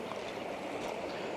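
Steady broadband rush of creek water flowing over rocks in the woods, continuous and fairly close with no pauses, no voices over it.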